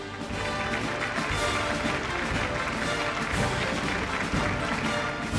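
An awards ceremony audience applauds a cement company being felicitated, producing a sustained wash of clapping that stays fairly loud and even from start to finish.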